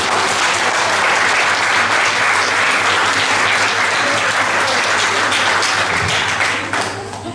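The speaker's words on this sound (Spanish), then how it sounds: "¿Acaso no se merece un aplauso nuestro amado?" Dense, loud audience applause at a healing and deliverance retreat, continuous clapping from a large crowd that tapers off near the end.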